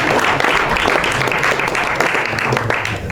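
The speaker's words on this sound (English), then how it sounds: "You're welcome to clap." A crowd at a marathon launch event in Soweto claps, a dense, steady burst of applause heard alone for a few seconds.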